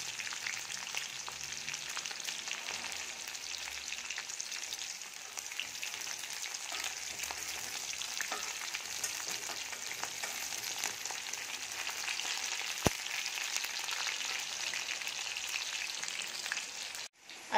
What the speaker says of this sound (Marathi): आता आपल्या मिरच्या चांगल्या तळून झालेल्या आहेत।